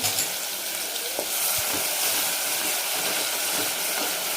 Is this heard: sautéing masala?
yes